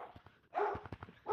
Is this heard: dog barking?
yes